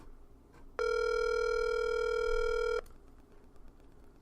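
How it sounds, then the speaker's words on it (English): A single outgoing telephone ring tone on a call to Jose Canseco, a steady electronic tone lasting about two seconds, clear and alone against a quiet line. "It's ringing."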